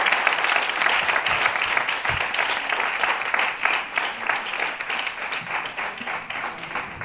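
Audience applause after a lecture at a church mission conference, dense steady clapping from a large crowd lasting throughout at a consistent, fairly loud level.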